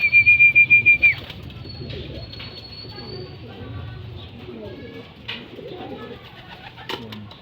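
Pigeons kept by a fancier coo in a loft, a few low, soft rhythmic coos near the start followed by quieter murmuring and faint wing or movement noises.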